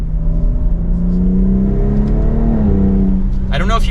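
Engine of a 2023 BMW X3 M Competition holding a steady hum, its pitch sweeping as paddle gear shifts change revs, with a brief burst of voice near the end.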